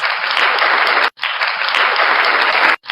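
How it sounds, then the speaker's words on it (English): A big, warm round of applause from the audience greets the newly crowned Miss Face of ALIAC 2020 at a pageant, loud and steady, with two very short breaks. "Let us give her a big and warm round of applause."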